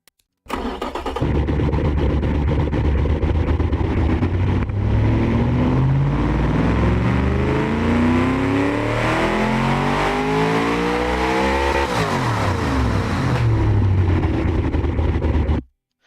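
A simulated car engine in the game Automation starting and revving on a test run toward 8,300 RPM, a loud, steady note climbing smoothly in pitch, dropping briefly, climbing again, then cutting off.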